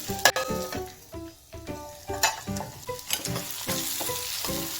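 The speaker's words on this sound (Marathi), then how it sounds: "भाजी ही थोडा वेळ आपण आता वाफवून घेऊया" Stuffed ridge gourd in a green masala paste steaming and sizzling in a pan, with a steady frying hiss, rhythmic stirring scrapes and occasional clinks of a utensil against the pan, close and loud with no talking.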